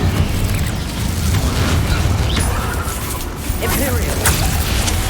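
Incendio fire spell cast in the video game Hogwarts Legacy, a dense roaring blast of flame with booming low rumble that stays loud and continuous for several seconds.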